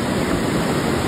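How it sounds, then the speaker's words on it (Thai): Strong floodwater rushes fast beside a flood barrier wall, a loud, steady broadband roar that holds unbroken with no voices. "น้ำไหลแรงมากนะครับแล้วเชี่ยวด้วยนะครับ"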